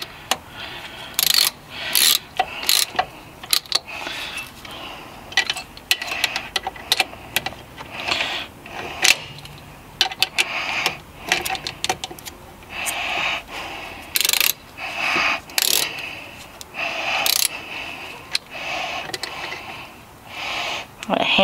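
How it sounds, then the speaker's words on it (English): A ratchet with a 15 mm socket tightening a bolt on Pontiac Montana brakes, making bursts of rapid clicking that stop and start in short, irregular runs across the whole stretch. "Again, we're using a 15 millimeter socket for this."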